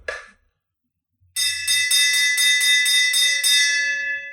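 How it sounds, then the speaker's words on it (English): The original victory bell, struck by hand indoors, rings out in about nine quick repeated strokes with a bright, sustained metallic tone that lingers and decays after a brief pause and a soft handling sound. "I want to ring the original victory bell for you"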